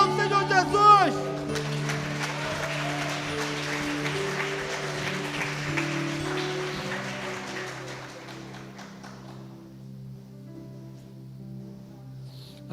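A church congregation at a conference applauds together, a dense burst of clapping that swells at first, then thins and fades away toward the end, with some voices mixed in.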